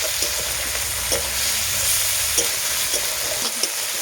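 Ginger and garlic paste fries in a pan for a fish curry, a continuous sizzle broken by occasional spoon scrapes and soft knocks, close and even throughout.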